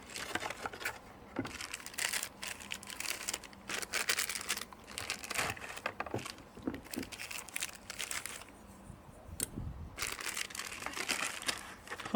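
Plastic wrapping from a WE Knife Kitefin X3 package crinkles and crumples in quick, irregular bursts close by, with short pauses between handfuls.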